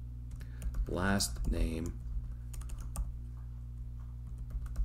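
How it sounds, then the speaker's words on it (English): Typing on a computer keyboard while entering code, a scatter of light keystroke clicks following a short spoken phrase, close but soft over a steady low hum. "I almost made a mistake as I was typing all that."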